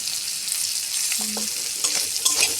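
Turmeric, chili and cumin frying with chicken curry in a pan, a close, steady hiss and sizzle with light stirring scrapes and a few faint tonal clinks over it.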